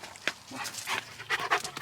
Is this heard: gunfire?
no